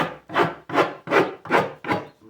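A rasp-like tool roughly scrapes wood on an old school desk, six even back-and-forth strokes close and clear in a steady rhythm.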